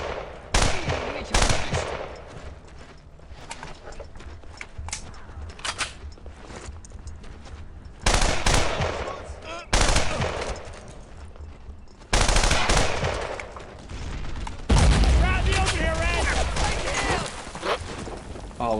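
Gunfire in the World War II video game Brothers in Arms: Earned in Blood, loud bursts of machine gun and rifle fire with heavy booms in dense clusters, while shouted voices come and go.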